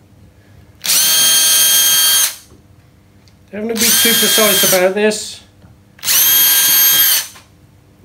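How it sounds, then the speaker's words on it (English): A power drill whines in three separate bursts of about a second each, boring holes into wood for a bandsaw circle-cutting jig, with someone speaking briefly between them. "I'm just going to drill a series of holes"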